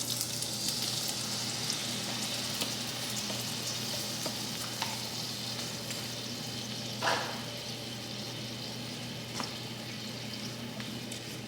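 Honey glaze sauce for salmon sizzling steadily in a pan on low heat, a soft continuous frying hiss with faint occasional pops and ticks.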